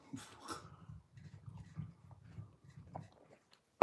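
A dog close by makes soft breathy snuffling and chewing-like sounds with low whimpers for a few seconds, then a sharp noise at the end, with no talking.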